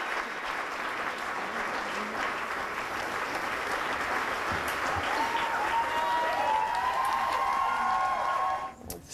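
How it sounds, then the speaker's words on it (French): An audience applauds steadily at a festive party held for the Dufour-Lapointe sisters, a dense, sustained wash of clapping heard close and loud throughout, with a few whistles near the end before it cuts off abruptly. "Ces applaudissements ont été offerts aux Sœurs du Four-la-Pointe hier, alors que c'était un beau party, une belle fête."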